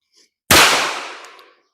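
A single sharp pistol shot from an S&W Bodyguard 2.0 at a shooting range cracks loudly and close, then rings out and decays over about a second.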